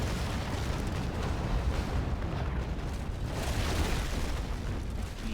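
Cannon broadside fire from sailing warships in the naval combat game Naval Action, a dense, continuous rumble of overlapping booms at steady loudness with no clear gaps, heard without voices.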